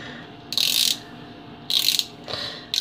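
A ratchet backs screws out of an impulse sealer, giving three short bursts of rapid clicking separated by brief pauses, close and clear.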